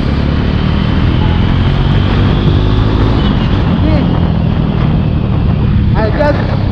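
A Jawa 42 motorcycle accelerates hard up to 60 km/h in second gear, a steady loud engine drone with rising pitch under heavy wind rush, recorded from the rider's position.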